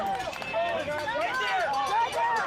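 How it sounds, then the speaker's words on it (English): A crowd cheering runners at the finish of the Cocodona race, a continuous mix of many voices, shouts and whoops that rise and fall throughout. "Listen to that crowd."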